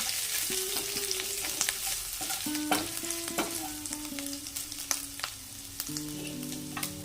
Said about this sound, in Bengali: দেব আদা বাটা